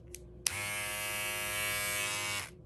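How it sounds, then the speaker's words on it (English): A Panasonic Wet Dry electric shaver switched on with a click, giving a steady loud buzzing hum for about two seconds before cutting off, close up with no talk. "This is like an electric shaver. This is the Panasonic Wet Dry"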